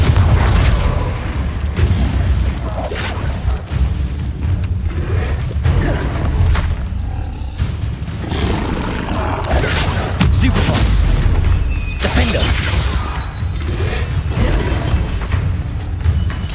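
Repeated fiery blasts of the Confringo explosion spell in Hogwarts Legacy, loud booming bursts recurring throughout amid constant dense combat noise and other spell effects.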